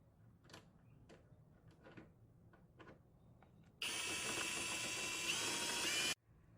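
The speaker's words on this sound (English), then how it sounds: "I just got finished unscrewing this, and I removed both of the screws for the headlight" A Phillips screwdriver backs out the headlight screws on a Cadillac DTS: faint, scattered ticking clicks come first, then a loud, steady rasping burst lasting about two seconds before it cuts off.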